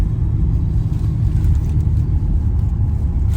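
A car drives along with a continuous low road rumble and engine drone heard from inside, steady and fairly loud with no voices.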